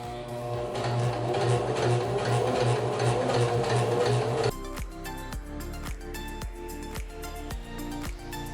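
A sewing machine stitches a bunched, twisted seam in a steady fast whir, then slows to a few distinct, slower mechanical thumps and clicks toward the end.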